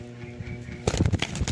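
A wild bird caught in a traditional manatad trap gives faint low cooing, then a sudden close burst of rustling, fluttering commotion for under a second.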